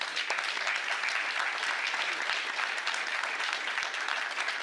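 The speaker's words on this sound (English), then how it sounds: "So let's give UD a round of applause." A crowd at a fireside chat applauds Miami HEAT icon Udonis Haslem, a steady, even stretch of clapping that holds at one level throughout.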